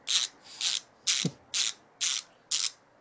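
Small screw being driven in by hand during a PC build, heard as six evenly spaced, close ratcheting turns of a screwdriver, each a short gritty rasp about every half second.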